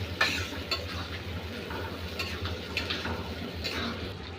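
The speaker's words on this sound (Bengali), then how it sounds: "এটা দেওয়ার সাথে সাথে কিন্তু ভালো করে নেড়ে দিতে হবে কিছুক্ষণ পর পর, নাইলে কিন্তু নিচে লেগে যাবে" Fish roe frying with spices in a pan, stirred with a utensil: a soft continuous sizzle with scraping strokes and light clinks of metal against the pan, close and alone.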